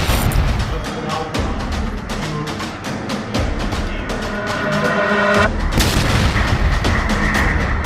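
A dramatized explosion effect for the crash of Air India flight 171: a dense run of booming blasts and sharp bursts, loud and continuous, with rumbling low impacts throughout.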